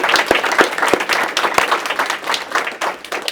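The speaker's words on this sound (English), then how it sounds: "Give me a round of applause from Raj." Warm, close applause from an audience at a spiritual gathering, dense and continuous with a few sharp individual claps standing out.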